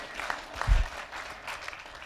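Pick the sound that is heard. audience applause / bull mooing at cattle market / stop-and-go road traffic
audience applause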